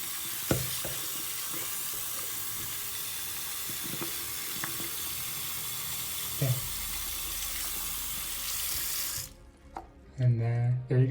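A water tap runs steadily while a Funko Pop vinyl figure is rinsed under it, a loud constant splashing rush broken by a few knocks and clunks before it shuts off near the end, followed by a brief voice.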